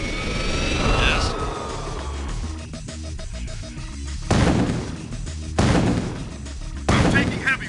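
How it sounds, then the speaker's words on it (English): Gunfire and combat noise from the PC strategy game Command & Conquer: Tiberian Sun Firestorm: bursts of shots and blasts with aircraft whooshes, several loud impacts spaced a second or so apart, mixed with in-game unit voice responses. "I'm taking heavy fire."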